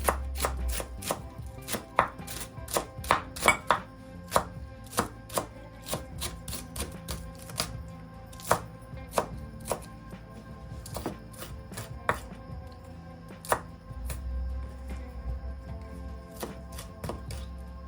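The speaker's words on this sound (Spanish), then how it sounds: "Ahora vamos a cortar un poquito de cebollín." A knife chops fresh chives, green parts included, on a cutting board in quick, uneven runs of sharp close taps, pausing briefly between bursts, with no voices.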